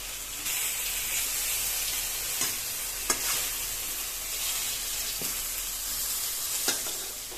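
Slices of eggplant (begun) frying in oil in a pan, giving a steady close hiss and sizzle with a few soft clicks and taps, and no voices.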